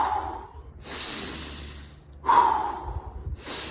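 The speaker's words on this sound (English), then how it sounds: "and then take a few deep breaths." Two slow, deep breaths, each a broad airy inhale-exhale lasting over a second with a short pause between, close and fairly quiet with no talking, as in a bedtime relaxation exercise.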